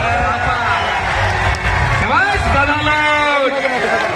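Crowd cheers and claps at a traditional wrestling bout between Pawan Hariyana and Deva Thapa on red earth, a continuous loud roar of applause and shouting with whistles and voices rising over it.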